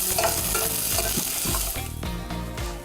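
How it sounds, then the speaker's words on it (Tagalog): Garlic and onion sautéing in a pan, a bright continuous sizzle with brief stirring scrapes, heard close under background music. "Igigisa muna ang bawang at sibuyas."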